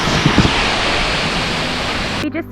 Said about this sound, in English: The waterfall is amazing.